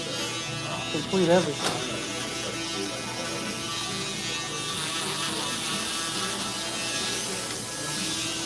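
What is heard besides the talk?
electric shaver cutting hair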